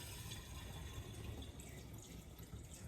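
Fresh cow milk poured into a sink funnel after milking, a steady close liquid rush with a faint trickle running evenly throughout, no voices.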